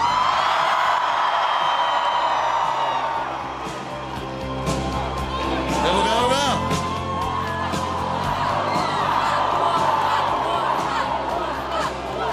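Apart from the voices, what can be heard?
crowd applauding and cheering for handball player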